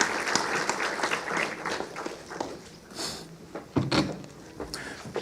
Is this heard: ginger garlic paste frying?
no